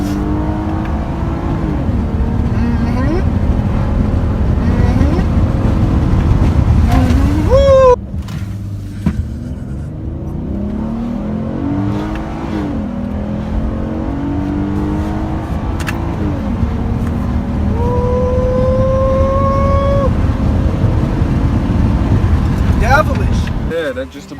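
A Ford Edge SUV drives hard with engine revving and accelerating, tire and road noise steady throughout, swelling pitch between shifts, with people talking and whooping over it inside the cabin.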